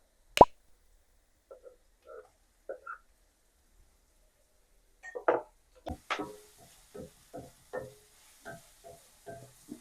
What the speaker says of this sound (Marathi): आता आपण टोमॅटो टाकणार आहे.